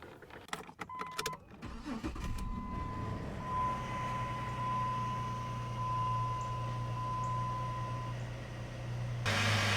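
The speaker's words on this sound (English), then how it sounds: "Power steering pump's a little bit noisy still" A running engine in a 2002-2007 Jeep Liberty with a noisy power steering pump, heard close up as a steady drone with a sustained whine, after a few clanks at the start and with no talking.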